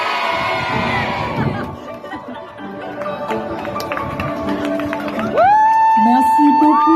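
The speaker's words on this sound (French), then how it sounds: "je vais vous demander à 3 de crier avec moi Japanime" Cosplay convention audience shouting a word together on cue, a loud, dense burst of massed voices and cheering that swells and sustains before a brighter, louder wave near the end.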